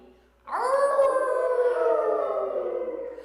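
Children's voices howl together in one long, rising wail that holds steady and slowly fades, imitating a coyote during a children's yoga class.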